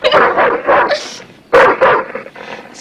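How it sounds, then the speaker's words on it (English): A dog gives short yips and barks mixed with high whimpers in a close, agitated burst, pausing briefly before a second loud round of yelps. "It's a good dog. It's a good boy."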